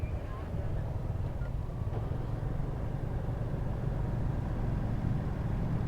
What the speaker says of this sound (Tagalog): Grabing traffic sa Open Canal ngayon mga pare ko eh